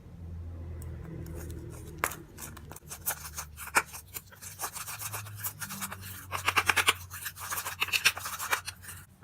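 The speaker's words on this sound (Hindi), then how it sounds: "इन सब चीज़ों को हम मिक्स करेंगे अच्छा सा।" Skin care paste ingredients being stirred with honey in a small bowl, scraping and clinking in short irregular bursts, close and fairly loud with no talking.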